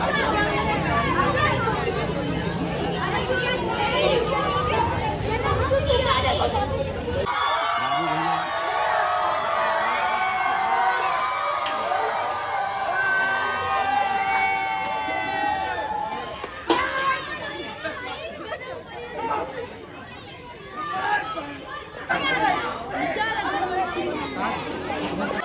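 A large crowd of children gathered around a Toyota Supra MK4 in Lucknow, chattering and shouting loudly throughout, with bursts of excited calls and someone speaking over the babble.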